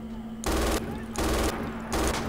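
Rapid automatic gunfire in Red Orchestra 2 Rising Storm, three loud sustained bursts separated by short pauses, close and dominant over a steady background hum.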